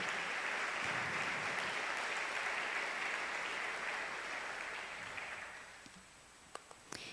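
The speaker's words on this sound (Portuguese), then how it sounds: "Vamos dar uma linda salva de palmas para Jesus e agradecer a Ele." A cathedral congregation gives a long round of applause, steady dense clapping that gradually thins and tapers off toward the end, leaving a few scattered claps.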